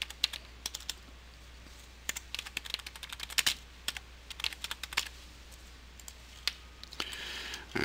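Typing on a computer keyboard, with irregular bursts of close, crisp key clicks and short pauses between them, in a quiet room.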